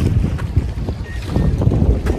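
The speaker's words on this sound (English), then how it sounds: "The wind really picked up." Loud, buffeting wind gusts on a lake during a canoe trip batter the microphone in irregular thumps and rumbles, with a choppy outdoor roar throughout and no voices.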